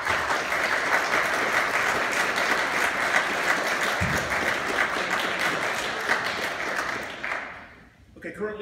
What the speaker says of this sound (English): Would you please join in a round of applause thanking them for their service?